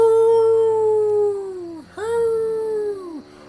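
Howling echoing through a town: two long, falling howls, the second following a brief dip, loud and sustained with a soft droning bed underneath.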